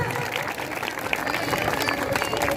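An audience claps at a women's association celebration of Mata Ramabai's birthday, a dense continuous burst of applause with crowd noise and voices mixed in.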